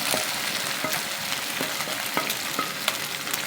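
Chicken frying for Schezwan noodles sizzles steadily as vegetables go into the pan, with a broad constant hiss and scattered sharp clicks and spatters from the wok throughout, close and fairly loud.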